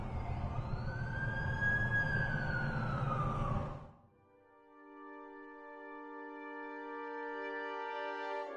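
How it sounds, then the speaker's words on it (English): A loud wailing ambulance siren sweeps up and down for a few seconds, then cuts off, leaving a sustained layered tonal hum. "That's the ambulance I called."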